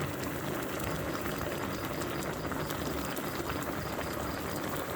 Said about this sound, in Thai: กำลังเดือดเลย ไฟแรงดีจัง